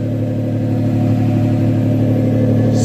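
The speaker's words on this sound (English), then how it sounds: "Look at that custom exhaust." A 1995 Nissan Pickup with a 3.0-liter V6 and a custom Flowmaster 40 exhaust revs steadily, its loud, deep rumble filling the whole stretch without a break.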